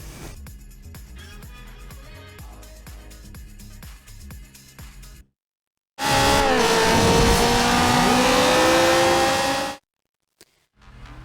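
A Bugatti Veyron in Forza Horizon 3 rumbles at a low idle, then after a short silence bursts into a loud, sustained rev with rising engine whine before cutting off abruptly.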